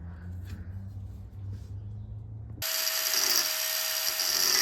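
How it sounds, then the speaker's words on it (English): An angle grinder cuts into a metal tray, starting abruptly after a quieter stretch with a low hum and then holding a loud, steady, high-pitched whine to the end. "I'm going to score it with the angle grinder"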